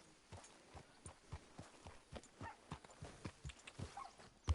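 Horse hooves clip-clopping at a steady walking rhythm while riding in a Western video game, with the soft repeated thuds close and fairly quiet and no talk over them.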